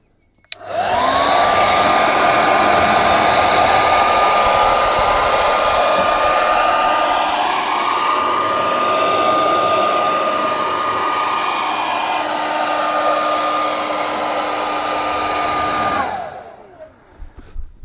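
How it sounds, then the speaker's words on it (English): A hairdryer heating the glue on caravan wall tapes blows loudly and steadily up close, whirring with a constant high whine for about fifteen seconds before switching off. "So on with the trusty hairdryer."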